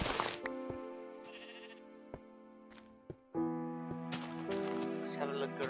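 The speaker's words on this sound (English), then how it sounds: "Sheep." Blocky sheep in the video game Minecraft bleat in short, wavering calls over a quiet game backdrop, a few separate cries spread across the stretch with faint clicks between them.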